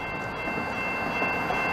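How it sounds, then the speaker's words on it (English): A CP freight train rolling past in Delson, Quebec, a steady dense rumble and rail noise that holds loud and unbroken throughout, with no talk. "to catch this train here, which is 6:50, this is awesome"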